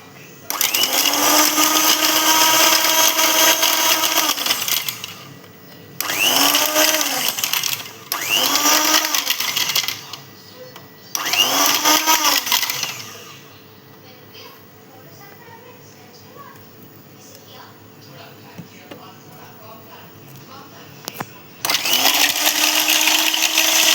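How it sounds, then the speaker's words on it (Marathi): Rose lassi with ice whirring in a blender in several loud bursts of a few seconds each, separated by pauses where a voice talks over the quieter room. "लस्सीला फेटून घेऊया."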